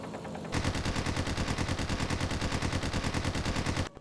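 A rear gunner's machine gun fires in the 2001 IL-2 Sturmovik flight game, a loud, continuous rapid burst of evenly spaced shots lasting several seconds before stopping abruptly.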